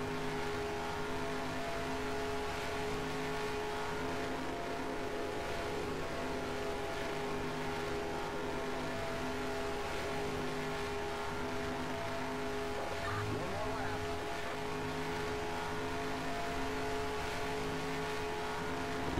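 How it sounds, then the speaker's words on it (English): A NASCAR Cup race car engine in the NASCAR Racing 2003 video game, at Las Vegas, drones at a steady high pitch, with a brief wavering, screechy tire slide partway through. "I don't know if you saw or could hear that. The car was sliding."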